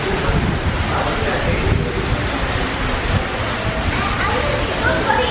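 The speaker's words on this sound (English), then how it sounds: "How windy it is, it'll just blow off." Strong wind buffets a hotel terrace at Animal Kingdom Lodge, a constant heavy rushing roar with gusty microphone rumble that goes on throughout.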